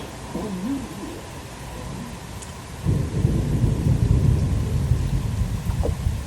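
Strong afternoon thunderstorm in Troy, Illinois: a steady wash of rain with a deep thunder rumble that swells louder about halfway through and keeps rolling, loud and close, with no voices.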